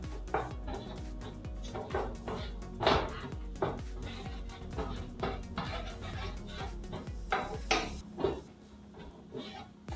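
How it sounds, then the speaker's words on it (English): Fried egg is stirred and mixed in a pan for fried rice with steady scraping and clattering of a utensil against the pan, a busy, close rhythm of knocks and scrapes over a low sizzle, with no talking. "So now my egg is fried enough so I can mix it all together."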